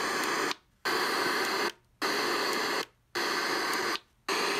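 AM radio static hisses from a Hart HPAD01 20v portable radio, cutting out and returning in a steady pulsing rhythm roughly once a second, loud and close with no voices.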